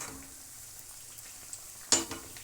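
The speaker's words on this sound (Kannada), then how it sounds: "ಇವಾಗ ಒಂದು ಸೈಡು ಚೆನ್ನಾಗಿ ಕರೀಲಿ ನಮಗೆ ಇವಾಗ ಟರ್ನ್ ಮಾಡೋಣ" Rice puris deep frying in hot oil, a quiet steady sizzle with a single sharp clatter and splash as one is turned, followed by a smaller knock.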